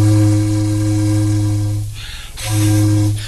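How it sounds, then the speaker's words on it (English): Steamboat sound effect: a loud, steady low-pitched whistle tone that breaks off into a brief hissy gap, then sounds again for a short final blast, heard alone and close. "A steamboat."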